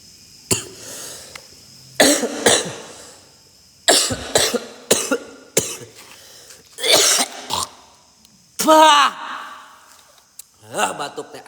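Repeated harsh coughing fits come in bursts of two or three, close and loud, separated by quiet breathing and a few sighs or throat sounds.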